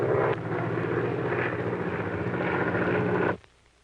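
Airplane engine in flight in a 1937 setting, a steady loud droning roar that holds for over three seconds and then cuts off abruptly to near silence, no talk.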